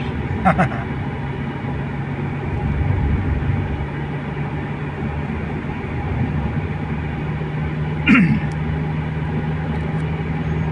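A light rail (LRT) train rumbles steadily throughout with a low hum, and a brief metallic squeal rises out of the noise partway through.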